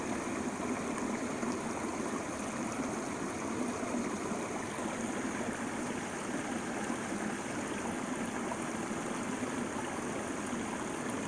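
Creek water running steadily while gold is panned in a small creek, a continuous broadband rushing and trickling wash, close and even in level, with no voices.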